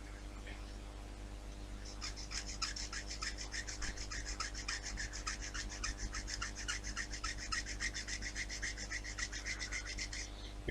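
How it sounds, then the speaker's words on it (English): Steady rhythmic rasping of sandpaper on a wooden USS Enterprise CV-6 model part, quiet and close, strokes repeating evenly over a low background hum. "it looks like it'll still need sanding down a bit."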